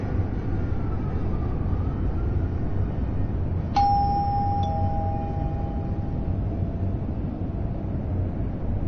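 A doorbell in the video game Fahrenheit gives two clear electronic chimes, one after the other, over a steady low background hum.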